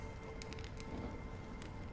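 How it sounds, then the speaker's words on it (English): Rain falling in Honkai Star Rail, a quiet, steady patter that holds even throughout with a few faint higher ticks, alone without any voices. "When will this rain ever stop?"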